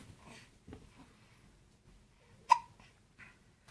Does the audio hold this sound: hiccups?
yes